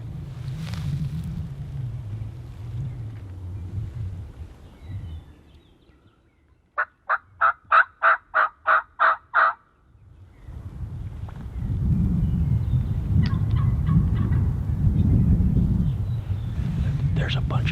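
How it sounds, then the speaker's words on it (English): Outdoors in South Dakota, a wild turkey lets out a rapid rattling gobble of about eight quick pulses, set between stretches of low talking and rustling. "There's a bunch of turkeys."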